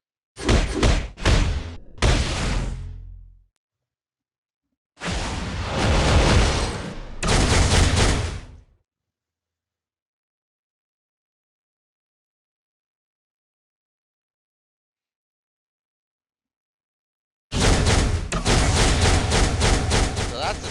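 Infinity Blaster attack moves in the mobile game Marvel: Future Fight, heard as loud bursts of rapid blasts and thumping impacts in three separate clusters with long silent gaps between them and no talking.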